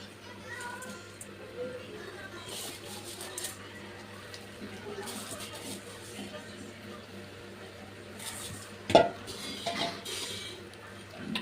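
A ladle stirs and gently mashes fish curry in a pot, giving soft scrapes and a few sharp metallic clinks over a low steady hum, with a voice talking in the background.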